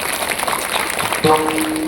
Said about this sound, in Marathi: पुन्हा एकदा टाळी त्यांच्याकरता वाजवा.